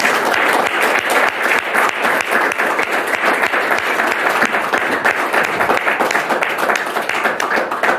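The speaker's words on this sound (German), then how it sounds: "bitte geben Sie einen kräftigen Applaus an unsere Rednerinnen und Redner" Loud, vigorous audience applause for the four panel speakers after a discussion on the dangers of killer robots, continuous rhythmic clapping from a full room, sustained throughout without speech.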